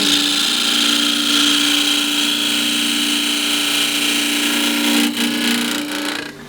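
A half-inch spindle gouge cuts into a natural-edge wood bowl spinning on a lathe, giving a steady, close hiss with a low motor hum that runs unbroken throughout and eases slightly near the end.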